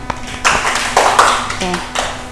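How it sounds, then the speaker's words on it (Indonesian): A classroom group gives a short round of applause for the first group, scattered hand claps sounding close by, mixed with voices talking over them. "Terima kasih untuk kelompok 1, bisa kasih tepuk tangannya."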